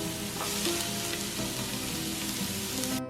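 Onion and diced carrot sizzle steadily in a little oil in a cooking pot, with a continuous, close, crackling fry that holds even for about three seconds.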